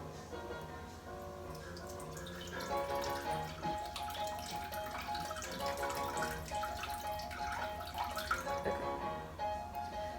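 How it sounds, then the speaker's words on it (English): Water poured from a measuring vessel into a container sitting on a food scale while starting a sourdough starter, a steady trickling stream under a continuous musical background with no talking. "I'm going to add 135 grams of water"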